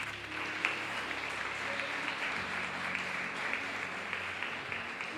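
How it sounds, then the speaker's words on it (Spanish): A church congregation claps steadily at moderate volume, a sustained patter of applause that neither builds nor fades, with no talking over it. "Dele un aplauso fuerte."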